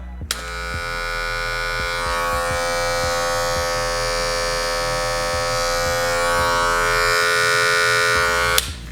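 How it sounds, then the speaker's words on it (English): An Andis Envy Li Fade cordless hair clipper switches on and runs with a steady, loud buzzing hum for several seconds, then clicks off at the end. "when it comes to the sound of these clippers, I want to go ahead and tell you guys that it is not on the quiet side"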